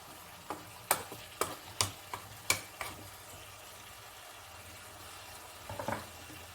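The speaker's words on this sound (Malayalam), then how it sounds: "നമുക്കിനി ഇതിലേക്ക് ചിക്കൻ ഇട്ട് കൊടുക്കാം" Chicken goes into a pan of sautéed onions for a beetroot chicken curry: a run of sharp spoon clacks against the pan, a quiet gap, then a short burst of sizzling near the end.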